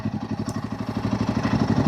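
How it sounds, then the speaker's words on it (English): A Royal Enfield Himalayan 450 motorcycle with its stock, thin exhaust idles up close, producing a loud, throaty, evenly pulsing beat that runs unbroken for a couple of seconds. "For such a thin exhaust, it is quite a nice sounding exhaust as well."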